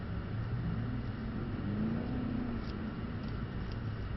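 A Mercedes-AMG C63 S is driven on the gas at a driving circuit. A steady, moderately quiet engine drone holds throughout, with a tone that briefly rises and falls.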